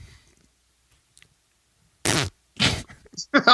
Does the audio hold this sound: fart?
yes